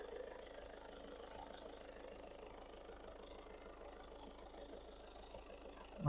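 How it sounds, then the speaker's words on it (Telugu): A 2015 Volkswagen Polo Comfortline diesel engine idles quietly with a steady, soft low hum and a faint rattle, with no talking. "మనకి చాలా సైలెంట్గా ఉంది ఇంజన్ కూడా."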